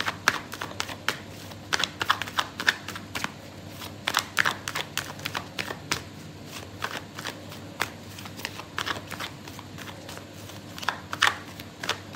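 Tarot cards shuffled by hand during a reading, a steady run of crisp riffling snaps and soft slaps repeating close up, fairly quiet and uninterrupted by talk.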